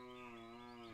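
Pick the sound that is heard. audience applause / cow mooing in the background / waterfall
cow mooing in the background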